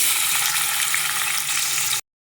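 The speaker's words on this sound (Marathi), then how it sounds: "आता तेल तापलेलं असेल, बारीक चिरलेला कांदा आपण फोडणीला देऊया." Finely chopped onion hitting hot oil in a cooker for a black-eyed bean curry, giving a loud, steady, close frying hiss that holds evenly for about two seconds and then cuts off abruptly, with no voices.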